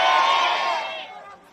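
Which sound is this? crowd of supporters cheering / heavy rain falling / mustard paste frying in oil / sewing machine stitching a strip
crowd of supporters cheering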